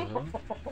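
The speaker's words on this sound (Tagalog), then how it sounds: "malaki na yung manok ko" A pet chicken clucks in a short series of four soft, evenly spaced notes, close by and fairly quiet, with no talking.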